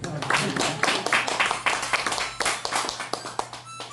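Rhythmic hand clapping from a small group keeping time to a song being sung, steady repeated claps over a low background hum, fairly close and loud throughout.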